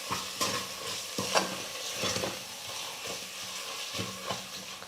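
A rice mixture with sambar powder and salt is stirred in a pan, giving repeated soft scraping strokes over a low steady sizzle, close but quiet, without speech.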